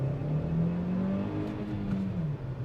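Kia Seltos turbo-petrol iMT pulling away at full throttle in first gear, its engine note climbing steadily in pitch as the revs build, close and loud inside the cabin with no talking.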